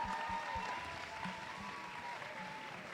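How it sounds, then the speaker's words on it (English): An audience claps steadily, a dense patter of applause heard from some distance, fairly quiet and continuous. "let's all give them a big round of applause"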